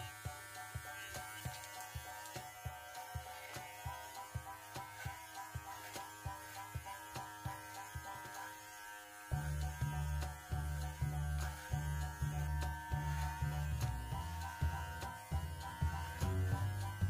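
A wireless pet clipper fitted with a 16 mm comb trims a dog's tangled hair. It gives a close, steady electric buzz, and the tone deepens and thickens partway through as the blade bites into the coat.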